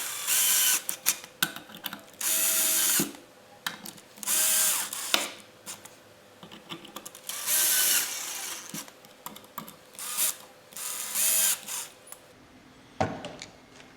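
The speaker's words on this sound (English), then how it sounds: "Grab your 5 screws and tighten them up." Screws being tightened on a Hitachi P20SB surfboard planer with a ratcheting power tool, close and clicky, in repeated short bursts separated by pauses with small handling sounds and no talking.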